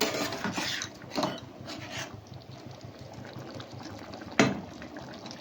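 Chili chicken sauce thickened with cornflour being stirred in a pan, with a bubbling simmer under scattered spoon scrapes and one sharp clink of metal on the pan.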